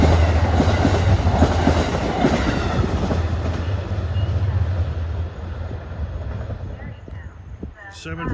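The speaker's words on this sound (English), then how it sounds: "We got Amtrak coming north with 747 right behind them." An Amtrak train passes northbound near Croton-Harmon with a Metro-North train close behind, a loud sustained roar with clickety-clack from wheels and rails and a steady low rumble that fades slightly near the end.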